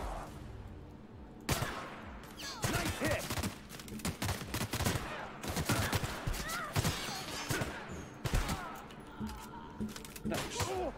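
Rapid gunfire in The Outer Worlds video game, bursts of shots and impacts crackling across several seconds with brief pauses, some faint voices mixed in among the blasts.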